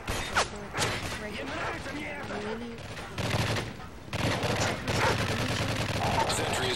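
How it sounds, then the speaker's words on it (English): Rapid bursts of automatic gunfire and explosions aimed at a sentry in Modern Warfare 3 Survival mode, loud and continuous with dense overlapping shots, with a voice talking intermittently underneath. "Sentry is taking heavy fire."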